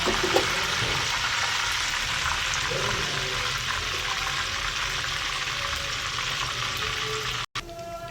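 Apple pieces fry in hot oil, a constant dense crackling sizzle heard up close and unbroken, with a brief dropout just before the end.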